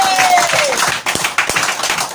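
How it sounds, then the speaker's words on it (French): Lecture audience on heritage in a French village claps briefly, a short burst of scattered hand claps with faint voices and a fading tone underneath. "Je peux applaudir."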